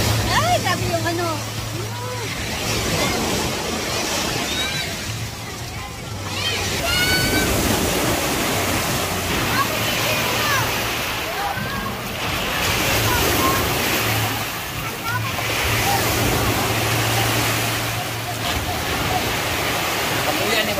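Sea waves break at a beach in a continuous surging wash, rising and falling in swells, with voices chatting in the foreground throughout.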